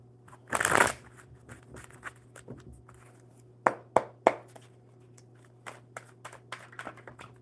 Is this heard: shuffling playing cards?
yes